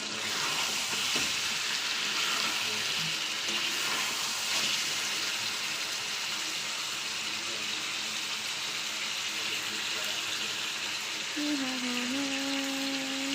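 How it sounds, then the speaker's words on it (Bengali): Meat frying and being stirred in a pan gives a steady, close sizzle with scraping stir noises throughout, and a faint tonal whine appears near the end. "মাংসটাকে আমি এখন কষিয়ে নিচ্ছি।"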